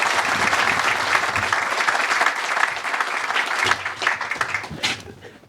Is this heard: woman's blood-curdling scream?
no